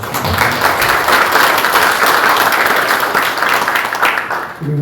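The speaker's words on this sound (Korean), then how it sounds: "박수 한번 보내주십시오." Audience applause at an opening ceremony in Korea, a dense, steady clatter of many hands filling the room, loud and continuous before tapering at the end.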